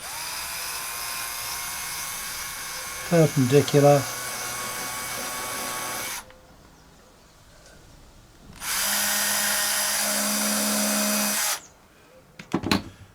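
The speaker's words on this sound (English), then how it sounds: "put my drill bit on there" A power drill with a bit whirs in two steady bursts while building a model FW190 aircraft, the second longer and louder, with a brief spoken word earlier and clatter near the end.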